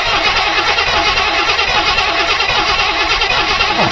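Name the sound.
1974 Buick Riviera 455 engine cranking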